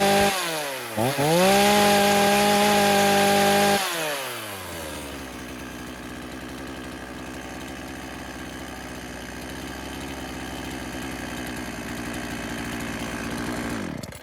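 A chainsaw engine revs high and steady during carburetor adjustment, then drops to a rough, continuous idle that drones on close and loud to the end.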